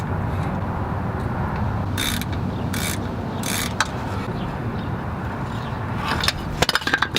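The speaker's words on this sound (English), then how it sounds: "We're gonna go ahead and remove these bolts right here. These are the transmission mount bolts." Ratchet and socket working on transmission mount bolts of a 2001 GMC Yukon XL with a 4L80E transmission, with three bursts of ratcheting clicks over steady background noise and a quick flurry of clicks near the end.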